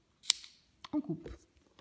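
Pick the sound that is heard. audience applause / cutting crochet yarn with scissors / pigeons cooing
cutting crochet yarn with scissors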